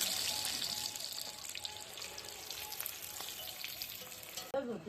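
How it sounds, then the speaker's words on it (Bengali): Food fries in a pan, a steady close hiss and crackle of oil that runs continuously and quiets briefly near the end with a clatter. "ভাজা হয়ে গেছে এখন উঠাবো"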